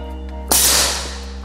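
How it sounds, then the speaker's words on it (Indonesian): A single test gunshot fired as the third shot in a series, a sharp loud crack with a brief decaying tail, heard alone. "Kita akan coba untuk tembakan yang ketiga."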